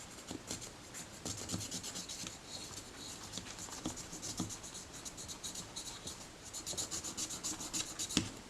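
Dirty, corroded metal at the base of a Kodak Retina Reflex S camera is cleaned by hand, giving close, repeated scratchy rubbing and rasping strokes in an uneven rhythm with brief sharper scrapes and no speech.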